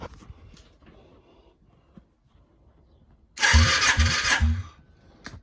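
A Yamaha Virago 535 motorcycle engine cranks over on the starter for about a second, a loud rhythmic chugging burst of several strokes, preceded and followed by quiet workshop handling sounds.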